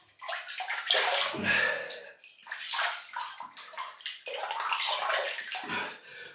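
Shaving brush being wet and washed under running water, a steady close splashing and sloshing with slight dips, continuing without pause throughout.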